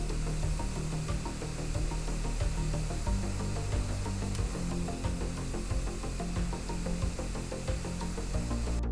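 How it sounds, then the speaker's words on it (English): Pipe freezer refrigerant sprays from an Arctic Hayes Aero can into a freeze jacket on a pipe, a steady hissing jet lasting several seconds at close range with faint rubbing and handling noises. "Insert the pipe into the jacket and spray for around 10 seconds."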